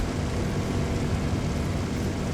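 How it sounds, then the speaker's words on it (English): Diesel engines of a BV 138 C-1 flying boat in the War Thunder video game, a loud, steady, continuous drone throughout with no talk. "because it's powered by diesel engines, this thing is noisy as heck."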